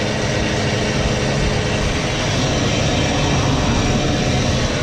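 Dense, steady roar of passing traffic on a busy street, loud and continuous with no voices over it.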